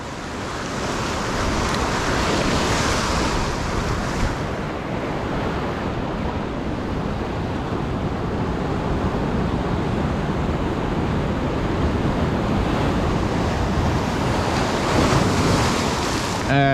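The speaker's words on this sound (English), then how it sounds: "The wave soaked the whole area." Ocean waves crash and splash onto shoreline rocks in a loud, continuous roar of surf mixed with wind buffeting the microphone, swelling and surging close by.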